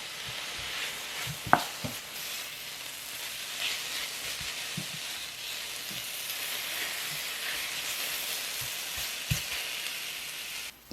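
Sliced carrots stir-fry in a tablespoon of oil in a pan, a soft continuous sizzle with occasional clicks and taps of stirring, fairly quiet and with no talk.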